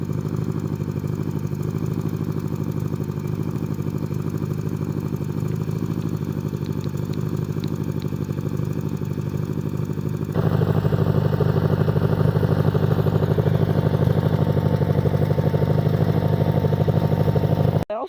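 A tractor engine chugs steadily and loudly at close range, its rhythmic throb stepping up in volume partway through, then cutting off abruptly.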